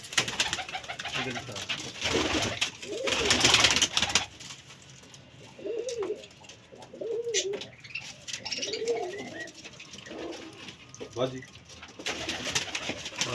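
Repeated low, throaty cooing of pigeons, several soft coos in a row close by, with a stretch of voices and rustling noise before them.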